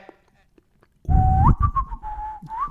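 A loud whistle blown right up close, its pitch rising and sliding, with heavy breathy rumble from air hitting the mic.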